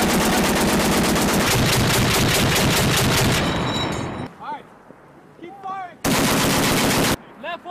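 Marine Corps officers fire a machine gun in long, loud rapid bursts, then a pause filled with shouted range commands before another sharp burst.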